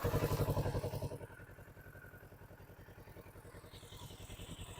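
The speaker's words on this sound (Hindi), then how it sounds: "तो सबसे पहले निंजा 650 के साउंड एक बार सुनते हैं भाई।" Stock exhaust of a 2025 Kawasaki Ninja 650 motorcycle, a brief louder rev that settles into a steady pulsing idle, rhythmic and fairly close, with no talking.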